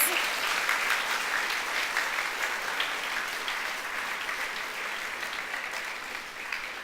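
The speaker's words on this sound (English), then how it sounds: "I think he deserves another round of applause" Steady applause from an awards ceremony audience fills the stretch, many hands clapping at moderate volume and slowly tapering toward the end.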